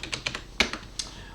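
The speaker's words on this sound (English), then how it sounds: "And I will type a little more to see how it looks." Typing on a computer keyboard: about half a dozen close, crisp key clicks in a short irregular burst, one landing sharper than the rest, with no voices.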